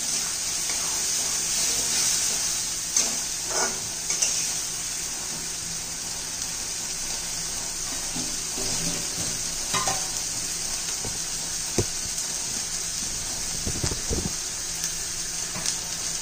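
Green masala paste for an aubergine curry sizzling steadily in hot oil in a pan, with occasional stirring scrapes and soft clinks, fairly close and continuous without talk.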